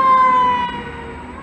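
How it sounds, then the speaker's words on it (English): A fire engine siren wails loud and close as it passes, its steady tone fading as the truck moves off amid road noise. "this fire engine"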